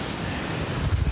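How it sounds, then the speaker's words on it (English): Strong wind blowing at a lakeside campsite, a loud steady roar with microphone buffeting that gusts harder toward the end of a brief stretch. "It's still pretty windy."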